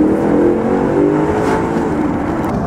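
A car engine revs hard and accelerates on twisty roads, a loud close-up roar with rising pitch that swells and eases slightly across the stretch, no voices over it.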